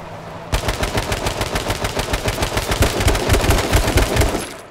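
Sustained rapid automatic gunfire in the video game H1Z1, a dense, loud stream of shots running for several seconds without pause.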